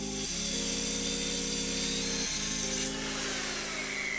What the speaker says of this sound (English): let's get to breaking down some sheets of plywood